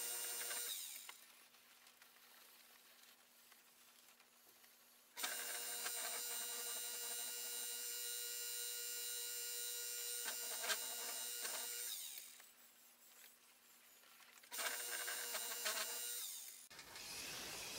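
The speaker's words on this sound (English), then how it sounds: "I do apologize for the loudness of my wheel" An aging pottery wheel's motor runs loudly and steadily throughout, with a constant tonal whine as a huge platter is trimmed, the noise swelling and dropping in intensity in sections.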